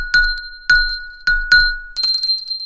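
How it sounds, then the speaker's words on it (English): A drinking glass is struck four times in a steady series, each tap producing a bright, clear ringing tone that lingers and decays, the last strike followed by a shimmering jingle, close and fairly loud. "I got tired of looking for something to hit on the glass"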